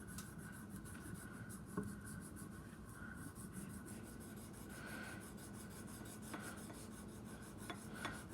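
A metal throttle body spacer is hand-sanded with 400-grit paper, giving a faint, steady scratchy rubbing of repeated strokes, very quiet and close, with a few small ticks.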